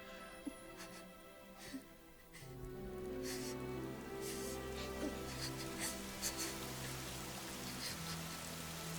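Rain falls in the Fire Emblem: Three Houses video game, a soft steady patter with occasional drips over a low sustained musical drone, quiet and even throughout.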